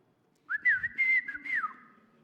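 A mother's signal whistle for calling a child home to dinner, imitated by a person: one clear, close melodic whistled call lasting over a second, with gliding pitch and short rises, alone against quiet.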